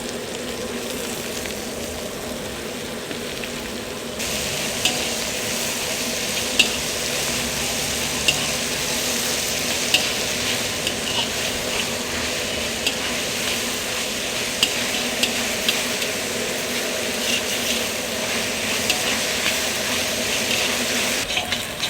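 Onions frying in a pan for a chicken gravy, with a steady loud sizzle throughout and intermittent scraping stirs of a spoon against the pan, no voices.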